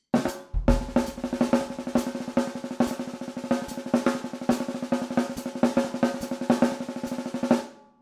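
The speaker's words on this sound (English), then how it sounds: "you can fill in all those low, quiet notes with rolls, double stroke rolls" Fast, even double stroke rolls on a jazz drum kit, a steady stream of closely spaced snare strokes with ringing cymbal overtones, close and moderately loud, with no talking.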